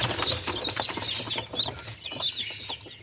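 Many newly hatched chicks peep continuously in a high-pitched chorus, close by, with soft rustling and a low hum underneath.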